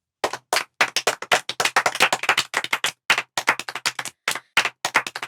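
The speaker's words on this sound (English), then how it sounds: "Clap for her" A classroom of students claps for a classmate: a brisk run of sharp, close handclaps, a few people in loose rhythm, lasting several seconds with a brief gap near the middle.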